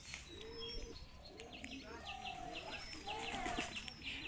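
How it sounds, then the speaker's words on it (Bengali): A black pigeon coos close by in repeated soft, throaty calls, with faint chirps from other birds and low background voices around the coop. "এই পায়রাটা অনেক ডাকে ভালো।"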